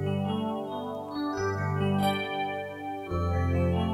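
Electric piano water-level music from the Nintendo video game Super Mario 64, with rolling chords and a soft, echoing reverb in a continuous, loud, dreamy stream of notes.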